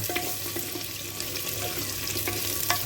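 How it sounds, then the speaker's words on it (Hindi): Chopped onion fries in oil in a clay handi for a black chickpea and bottle gourd dish, giving a steady close crackling hiss with a few scraping stirs and no talking. "प्याज को आधा 1 मिनट खाली भूनना है"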